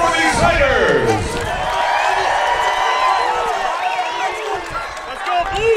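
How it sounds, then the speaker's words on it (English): Spectators at a California Fight League bout cheer and shout through the third and final round. Many overlapping voices yell loudly and keep up steady, lively noise. "Crowd is loving it."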